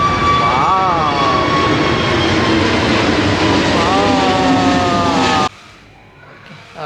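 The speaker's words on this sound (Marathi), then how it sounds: "मित्रांनो आता विमान येत आहे." An airplane passes overhead on a Dussehra festival day, a loud, close roar with whining engine tones that rise and dip, sustained for several seconds before cutting off sharply to quieter surroundings.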